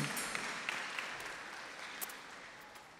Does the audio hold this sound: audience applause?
yes